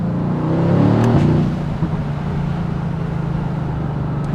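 A Mercedes-AMG GT C V8 pulls hard under acceleration with a deep, steady engine drone and a rising tone heard from inside the car, loud and continuous.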